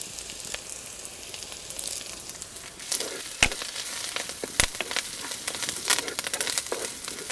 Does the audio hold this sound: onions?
yes